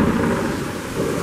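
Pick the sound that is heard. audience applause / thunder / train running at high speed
thunder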